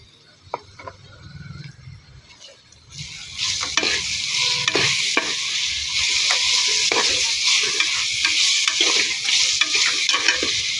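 A tomato mixture fries steadily in a pan, with a soft low bubbling that swells after a few seconds into a loud, continuous sizzle, broken by repeated stirring scrapes.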